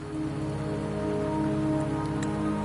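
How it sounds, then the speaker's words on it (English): Steady rain in the video game Wuthering Waves patters continuously over a low sustained tone, with a few brief brighter drops near the end. "Don't worry, the rain won't last much longer."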